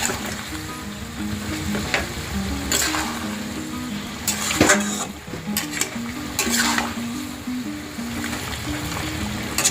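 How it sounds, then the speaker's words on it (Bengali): A spatula stirs chicken biryani meat with whole bay leaves in a pan, with steady scraping and gentle sizzling and a few sharper clinks, continuous and close, without talk. "খুন্তি দিয়ে ভালো করে একটু নেড়ে চেড়ে দেব।"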